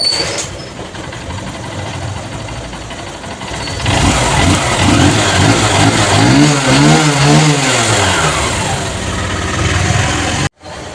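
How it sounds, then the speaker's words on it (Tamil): A Honda Shine motorcycle engine, freshly fitted with a new cylinder kit, idles close by, then revs up and down in smooth rising and falling swells before cutting off briefly near the end. "பைக் வேலை முடிஞ்சிட்டு பாருங்கள், சவுண்டை பாருங்கள் எவ்வளோ ஸ்மூத்தாக இருக்குமாங்க"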